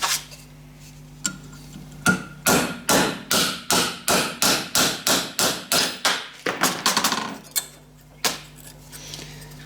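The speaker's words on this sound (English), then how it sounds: "I'm going to tap out the punch to separate the two halves" A hammer taps steadily on a punch resting on vise jaws, separating two halves of a part for a diesel foundry furnace burner: a fast, even run of about twenty sharp, close metallic blows, with a few slower strikes before and after.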